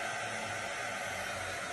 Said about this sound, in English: using a heater or, you know, hair dryer or this heater